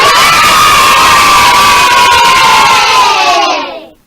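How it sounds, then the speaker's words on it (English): Crowd of excited kids cheering and shouting together, a loud sustained roar that stays steady for several seconds before quickly fading out. "There's the cheering. All the kids are excited."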